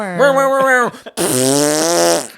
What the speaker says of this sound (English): Just like a nice fart button.